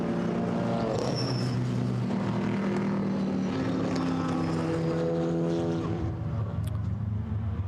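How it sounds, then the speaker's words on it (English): Chevrolet Camaro GT4 race cars rumble at low revs behind a safety car at Zandvoort in a GT4 European Series race, a continuous, loud, throaty drone with shifting engine notes and no talk. "those Camaros make a really nice, rumbustious rumble as they motor around"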